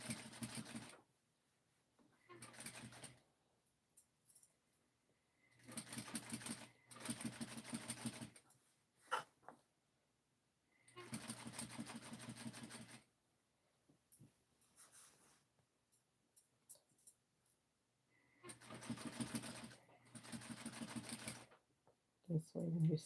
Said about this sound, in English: So I'm stitching the neck band down, being sure to catch the seam.